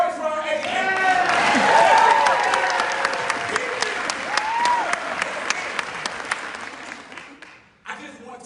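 An audience at a TED-style talk applauds and cheers for educators. Dense, loud clapping swells with whoops and shouts, then fades after about seven seconds.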